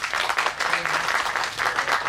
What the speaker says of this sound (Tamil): நம்ம அவருக்கு ஒரு கைத்தட்டல் கொடுக்கணும்